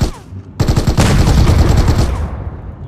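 A tank cannon fires in the mobile shooter PUBG Mobile, a loud, dense burst of blasts and rumbling gunfire that starts abruptly and holds steady for about two seconds before fading.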